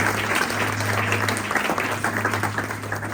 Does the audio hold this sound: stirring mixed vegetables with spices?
no